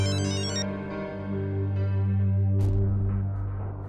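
A telephone rings with an incoming call, a loud melodic ringtone of repeating tones that plays on steadily and alone, with no talking.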